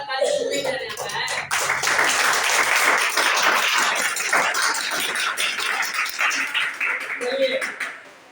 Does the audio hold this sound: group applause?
yes